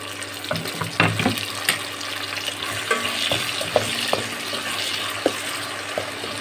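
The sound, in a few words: stirring chopped tomato in a cooking pan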